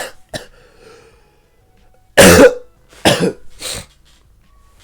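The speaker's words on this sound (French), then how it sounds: "faut pas me faire rire parce qu'après je tousse" A person coughs in a few short, sharp bursts close to the microphone, a hard double cough followed by two smaller ones, with quiet gaps between.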